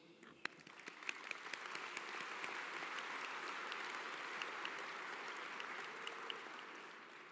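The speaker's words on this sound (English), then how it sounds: "A round of applause for both the groups." A graduation ceremony audience applauds steadily for about seven seconds, a soft, somewhat distant wash of many hands with a few sharper individual claps standing out.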